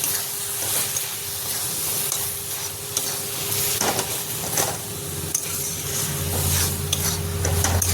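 Cabbage curry cooks in a pan after sugar and butter are added, giving a steady close sizzle and hiss broken by the scrape and clatter of stirring.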